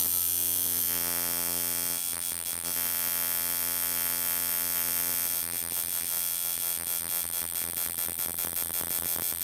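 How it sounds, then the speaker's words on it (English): A tattoo machine running softly while shading a skull in gray wash: a steady, even electric buzz with a strong harmonic drone, continuous for the whole stretch with faint flutters of movement. "You can hear the machine is running really soft"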